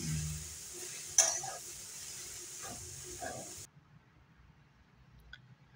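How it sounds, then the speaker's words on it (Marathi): Vegetables and spices being stir-fried in a pan for a quick homemade vegetable dish, giving a steady sizzle with a few stirring scrapes before the sound drops away to near quiet. "याला पूर्ण सर्व मसाले लागेपर्यंत आपण छान परतून घ्यायचं आहे"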